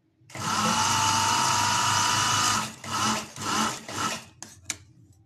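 A sewing machine stitches a trouser waistband, running in one long steady whirring burst, then a few shorter runs and clicks before it stops, close and alone.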